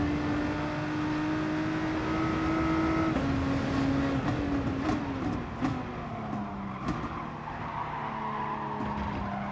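Race cars in Gran Turismo Sport skid and squeal their tyres as one spins out, with engines droning and shifting pitch throughout, loud and continuous.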